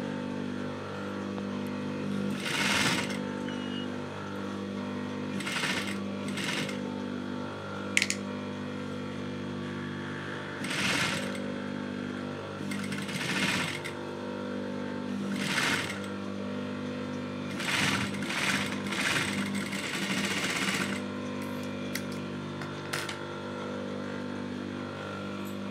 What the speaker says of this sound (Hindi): बस ये अभी मैं गले पे सिलाई लगा रही हूँ।